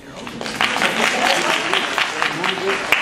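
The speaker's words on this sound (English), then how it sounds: "Let me have some claps or see something." Scattered audience clapping at a university talk, light and uneven claps under a murmur of crowd voices and talk.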